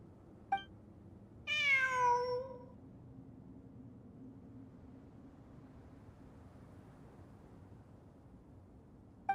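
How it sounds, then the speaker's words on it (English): A single clear cat meow from the Genshin Impact game rises and falls for about a second over a quiet, faint ambient background, framed by two brief clicks. "It really is a cat."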